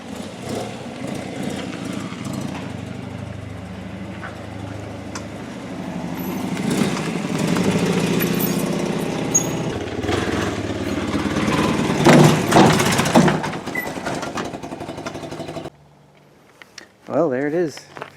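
Motorcycle engine running steadily as the bike is loaded into a camper converted to a toy hauler, a close, rumbling idle that swells with throttle blips before cutting off, with talk over parts of it.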